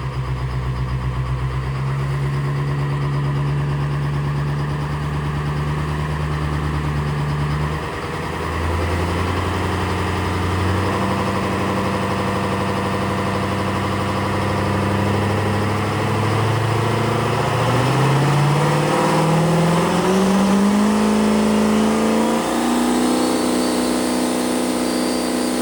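A drag racing pickup truck, a GM truck fitted with Dodge parts, idles with a steady loud rumble and then revs up, its engine pitch climbing steadily toward the end.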